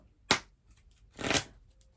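Tarot cards being shuffled by hand, two quick riffling bursts a second apart, close and fairly quiet with no talk.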